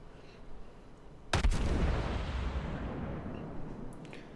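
A loud, close salvo from the Soviet cruiser Molotov's guns in World of Warships, fired at an enemy destroyer, hits as one sharp blast, and a long rumbling roar trails off slowly after it.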